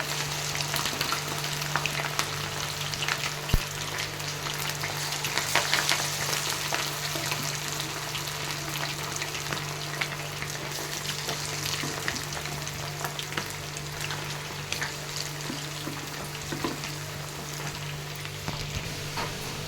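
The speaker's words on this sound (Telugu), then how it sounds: "వీటిని మీడియం ఫ్లేమ్ మీద వేయించుకుంటే బాగుంటుందండి" Chicken pakoda pieces frying in hot oil over a medium flame, a steady, moderately soft sizzle and crackle with scattered pops running throughout, without any talk.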